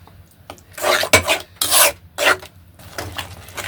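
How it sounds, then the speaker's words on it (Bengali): Spinach for palak paneer being mashed in a pan, heard as a handful of rough scraping, rasping strokes in an uneven rhythm, each one short and close, with quiet gaps between them. "পালং শাকটা দিয়ে দিলাম, পিষিয়ে নিচ্ছি।"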